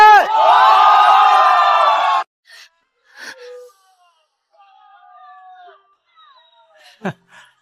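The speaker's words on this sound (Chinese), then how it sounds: "听见了吗？ 全城都在为你那好姐妹欢呼呢。" A whole city's crowd cheers in a loud, dense roar of many voices for about two seconds, then stops abruptly. Sparse faint sounds and a sharp knock follow in near silence.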